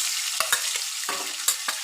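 Four pieces of katla fish fry together in hot oil, a close crackling sizzle broken by several sharp spatters and stirring scrapes.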